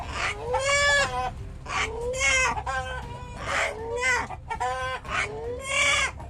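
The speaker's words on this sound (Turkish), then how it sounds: "horoz yine anne diye bağırınca o yine vazgeçti" A rooster crows repeatedly at close range, loud drawn-out calls with a strained, almost word-like cadence resembling the Turkish word "anne", separated by brief pauses.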